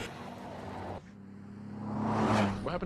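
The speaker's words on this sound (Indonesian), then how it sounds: "Beberapa saat setelah mobil berjalan" A car moves off with its engine droning steadily, then the noise swells as it gathers speed before cutting out abruptly at the end.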